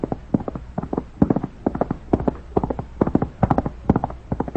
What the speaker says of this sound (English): horse coming up the trail